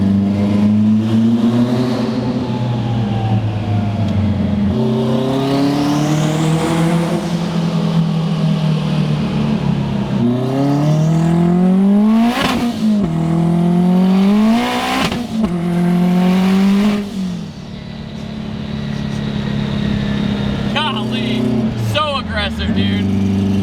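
A 1000HP Subaru STI turbo engine loud and close, repeatedly revving and accelerating through rising gear pulls with sharp shifts between them, a continuous roar across the whole stretch.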